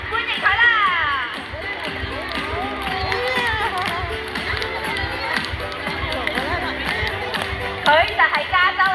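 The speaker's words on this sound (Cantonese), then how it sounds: "我哋繼續拍拍手歡迎佢啦！" Audience clapping and cheering to welcome a California sea lion at Ocean Park Hong Kong, a dense, steady crowd din with scattered shouts and a voice talking over it throughout.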